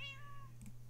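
A small orange kitten meows once in the video game Minecraft, a short clean high-pitched mew, followed by a faint soft chime over a low steady hum, no speech.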